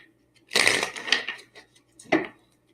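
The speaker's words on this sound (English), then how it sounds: "for Taurus, 2 more shuffles." Tarot cards being shuffled by hand in two bursts, a longer riffling flutter followed by a pause and then a shorter snap of cards, close and crisp in an otherwise quiet room.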